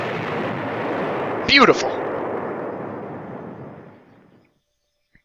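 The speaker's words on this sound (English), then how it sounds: "And here we have the Death Egg Mark II, and it is exploding!" The Death Egg Mark II blows up in the fighting game Sonic the Fighters: a loud, rumbling explosion swells at once, a sharp whistling burst cuts through midway, and the roar then fades away to silence. A voice speaks a single word over it.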